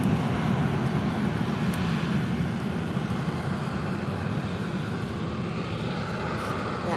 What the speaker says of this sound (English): We've also got a Ryanair 737 taxiing now to the runway.